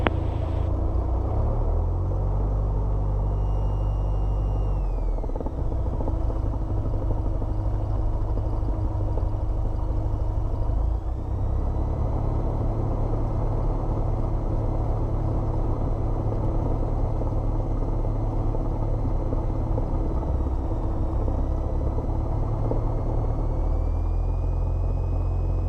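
Steady, loud engine drone of a Cessna light aircraft during takeoff at an airfield's traffic pattern, a continuous low rumble with shifting tones that holds throughout with no pauses.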